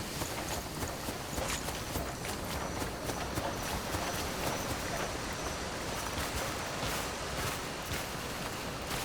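Many deer hooves pound rapidly and continuously in a video game, a dense galloping patter that sounds fairly close and steady throughout.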